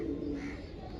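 An old-breed blue pigeon coos softly at close range, a low murmuring call that stays faint and continuous against quiet background noise.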